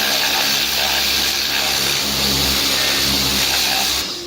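A Suzuki GN125 motorcycle under restoration runs with a loud, steady, droning engine note, close by and continuous, with a slight rise and fall in tone before it briefly drops off at the end.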